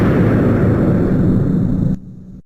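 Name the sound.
cannon firing explosion sound effect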